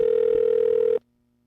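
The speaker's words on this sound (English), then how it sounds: "M. Night Shyamalan, answer your phone." Outgoing call ringback tone: a single steady electronic ring held for about a second, then cut off abruptly into near silence.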